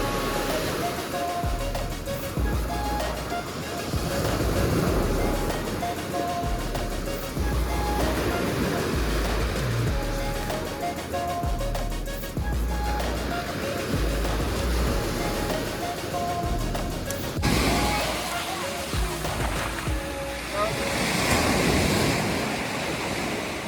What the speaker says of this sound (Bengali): আর জলের যা সুন্দর সাউন্ড।